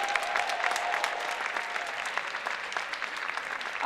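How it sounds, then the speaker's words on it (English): Audience applause for performers at a live stage show, a steady dense wash of clapping held at even loudness throughout with no voices over it. "let's give another round of applause for all of our amazing performers"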